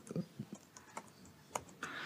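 Computer keys tap out a Control J shortcut in a PowerShell command-line session, a handful of light separate clicks spread unevenly across the moment, close and fairly quiet.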